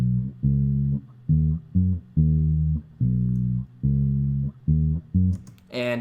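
A distorted bass with reverb and rolled-off highs, produced in Ableton Live, plays a choppy riff of short, punchy low notes separated by brief gaps, loud and up close, alone.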